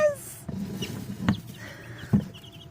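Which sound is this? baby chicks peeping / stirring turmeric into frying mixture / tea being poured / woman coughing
baby chicks peeping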